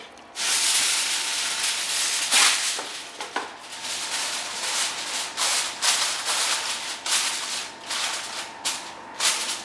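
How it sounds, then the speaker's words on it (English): Aluminum foil is crinkled and pressed over a baking dish of green bean casserole, a close run of rustling, crackling bursts with brief sharp crinkles throughout. "I'm going to cover this in aluminum foil"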